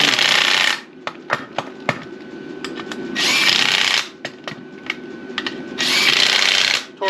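An impact-style power tool hammers loose ball joint hardware on a 2003 Pontiac Vibe in three loud, sustained bursts. Short metallic clanks and knocks fill the gaps between them.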